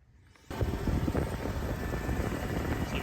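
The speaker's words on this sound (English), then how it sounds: "there is a whining noise. It does get a little bit worse when the engine speeds up." A steady mechanical drone kicks in after a brief quiet start, a Toyota Tacoma 3.4 engine running with a continuous whining tone from a failing AC idler pulley layered over its rumble.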